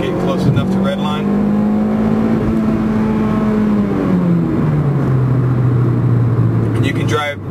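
A car engine held at wide open throttle on a dyno pull, droning loud and steady with a rising then falling pitch as it nears redline, with brief bursts of talk at the start and end.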